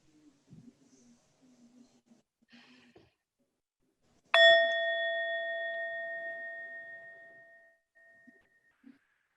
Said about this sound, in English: And we'll close out by inviting the bell.